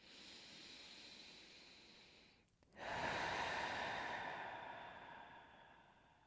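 Deep, slow breathing during a yoga class: a soft drawn-out inhale, a brief pause, then a long, airy exhale that swells and gradually fades, close and quiet.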